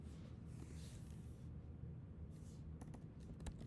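Soft clicking of a computer keyboard as code is typed, quiet and close, with a burst of quicker keystrokes toward the end.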